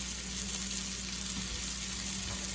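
Onions sizzling in a pan for a fairy tale eggplant dish, a dense, even frying hiss held close and loud for the whole moment, no talking.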